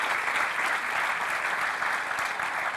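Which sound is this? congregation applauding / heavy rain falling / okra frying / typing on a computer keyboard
congregation applauding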